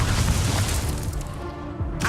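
The Incendio fire spell in Hogwarts Legacy erupts as a loud, booming whoosh of flame that fades over about a second and a half, followed by a second short burst near the end.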